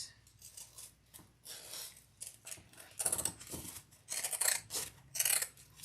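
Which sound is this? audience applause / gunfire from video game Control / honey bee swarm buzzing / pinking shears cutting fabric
pinking shears cutting fabric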